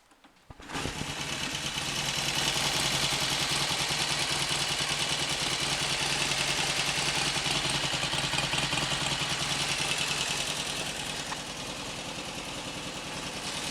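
A Royal Enfield Constellation motorcycle engine starts after a short silence, then idles steadily and loudly close by, a rapid even throb that eases slightly near the end, no talking.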